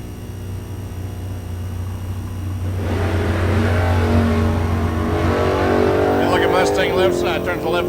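A Mustang launches down the drag strip at Mid America Dragway. A loud, steady engine roar swells after a few seconds and holds as a sustained high-revving blast, with an announcer talking over it.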